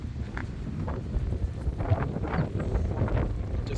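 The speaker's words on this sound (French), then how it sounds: "Bon là c'est le vent." Wind buffeting the microphone of a Samsung Galaxy S22 Ultra phone outdoors, a continuous low rumbling roar with uneven gusty swells and no voices.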